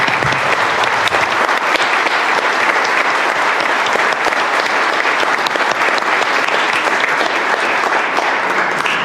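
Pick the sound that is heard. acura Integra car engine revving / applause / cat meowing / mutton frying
applause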